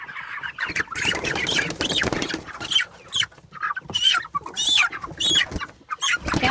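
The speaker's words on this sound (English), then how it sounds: "let's get our first spring broilers out on the grass where they should be" Spring broiler chickens out on grass cluck and chatter busily and close by, a dense run of overlapping calls with no pause.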